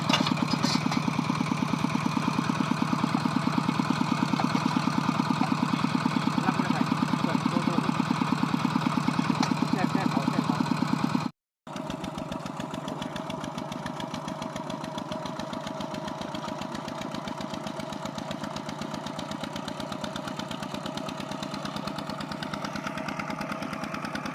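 A modified walk-behind farm tractor engine runs in a rapid, steady chugging idle, close and constant for about eleven seconds, cuts out for a moment, then resumes a bit quieter with the same even beat.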